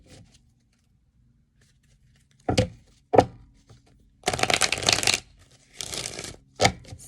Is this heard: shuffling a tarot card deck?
yes